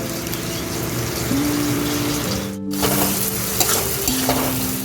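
Spice paste of ground dried red chillies and a little Kashmiri red chilli fries in a pan, a close continuous sizzle with scraping stir strokes and one brief pause.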